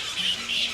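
Grey-headed flying foxes squawk in a tree canopy holding dozens of them: two short, shrill, raspy calls in quick succession, fairly loud and heard alone.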